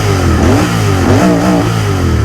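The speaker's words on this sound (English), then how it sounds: "So let's quickly rev the motor." A Royal Enfield motorcycle engine revs up smoothly and loudly, with rising and falling pitch sweeps over a steady close idle rumble and no talking.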